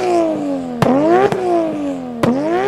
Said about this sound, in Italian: più sale di giri, più diventa bello il suono